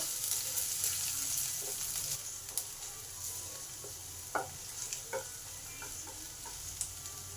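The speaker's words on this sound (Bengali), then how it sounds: "লঙ্কা রসুনটাকে একটু ভালো করে ভেজে নেব" Chopped garlic and chili fry in hot oil with a soft, steady sizzle, a few scattered clinks and scrapes of a spatula stirring them in the pan, close and fairly quiet.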